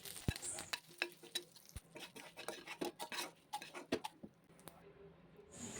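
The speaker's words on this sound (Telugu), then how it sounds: "కొంచెం మెంతులు కొంచెం జీలకర్ర కొంచెం కరివేపాకు వేసుకొని ఇది కూడా ఆయిల్ అనేది కొంచెం వేసుకోవాలి ఎక్కువ వేసుకోకూడదు వేసుకొని మంచిగా వీటిని మనం ఫ్రై చేసుకోవాలి" Chillies, fenugreek seeds, cumin and curry leaves fry in a little oil, with a soft sizzle and repeated sharp clinks and scrapes of a spoon stirring in the pan.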